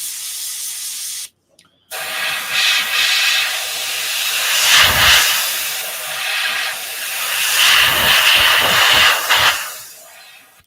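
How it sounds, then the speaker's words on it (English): An airbrush spraying paint on a weld seam gives a steady close hiss, briefly cut off near the start, then swelling and fading in several long bursts. "Just airbrush it."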